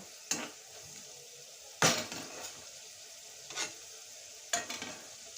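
A pea pickle being stirred in a pan, with four separate scraping, clattering strokes spread over a few seconds against a faint background sizzle, close and quiet, without speech.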